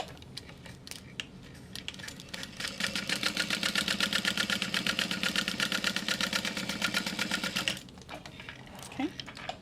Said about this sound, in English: I'm just going to sew across the bottom.